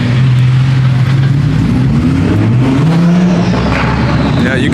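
A twin-turbo car engine revs hard at a supercar and muscle car meet, its loud rising and falling drone filling the whole stretch with steady outdoor crowd noise underneath.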